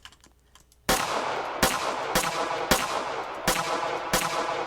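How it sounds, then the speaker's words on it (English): Gunfire from a gun in a Roblox game: after about a second of near silence, six sharp, loud shots ring out at irregular intervals of roughly half a second to a second. "Now this is just a product of my gun right here."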